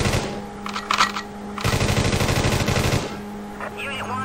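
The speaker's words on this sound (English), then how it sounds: "I'm gonna try to finish this guy off with a machine gun" Machine gun fire in the PS1 game World's Scariest Police Chases: a fast, steady burst of rapid shots lasting over a second, loud against game engine noise and music, with short bursts before it.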